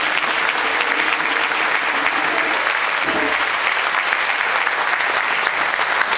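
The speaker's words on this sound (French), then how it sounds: "Un applaudissement, s'il vous plaît." Steady, dense applause from an audience at a Montreal event where panel guests are being introduced, filling the whole stretch at an even level with no break.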